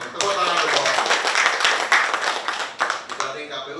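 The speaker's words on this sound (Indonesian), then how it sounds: "Tepuk tangan dulu." An audience claps during an official meeting of a provincial governor with electoral commission leaders: a dense, continuous burst of many hands clapping, close and fairly loud, sustained for several seconds before thinning out.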